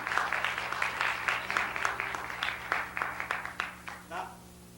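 Audience applause at a 1996 televised performance welcoming a singer, a burst of clapping that thins and fades out toward the end, with some talk underneath.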